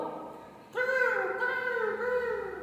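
A single drawn-out, harsh vocal call imitating a crow's caw, held for nearly two seconds, close and fairly loud.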